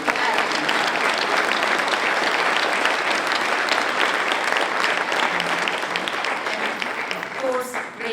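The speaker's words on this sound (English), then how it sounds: "We need to give a big applause to the team." Sustained applause from an audience at a university event, dense and loud clapping running steadily for about eight seconds before easing slightly at the end.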